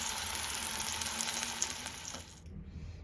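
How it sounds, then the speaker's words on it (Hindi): Tomato paste sizzles in a pan with cumin, asafoetida, coriander, fennel, turmeric and red chilli, making a steady close frying hiss that drops away sharply near the end, with no voices. "अब हम इसमें टमाटर का पेस्ट डाल देंगे।"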